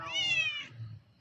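A single clear cat meow, close and fairly loud, with a falling tone and quiet low background rumble.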